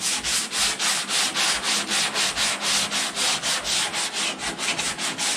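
Rhythmic back-and-forth strokes of a sanding block wearing down body filler on a car guard panel, close and steady, roughly four strokes a second, with no talking.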